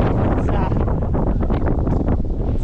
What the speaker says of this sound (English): And it's very windy, I can tell you.